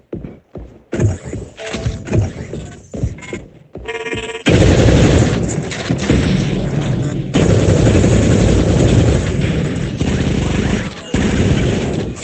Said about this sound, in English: I can't hear you with the gunfire